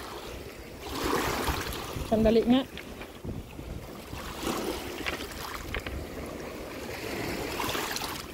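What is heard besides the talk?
strong waves and rough water in wind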